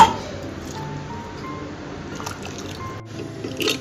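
Soaked rice and its water tipped into a cooking pot, a short wet slosh and trickle at the start fading into soft drips and gurgles, closing with a louder splash.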